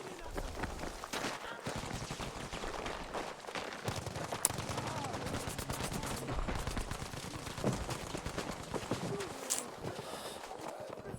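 Bursts of video game gunfire, including a Sten submachine gun, crackle and pop over a busy, noisy battle mix in a competitive match, with commentary running underneath.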